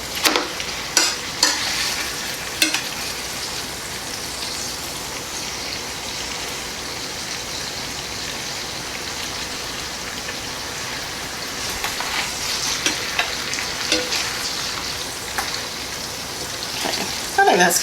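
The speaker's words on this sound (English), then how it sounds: "I just want to kind of brown the sides here" A pot roast browns in a hot frying pan, giving a steady crackling sizzle throughout with occasional sharper pops and brief scraping or turning noises, close and fairly loud.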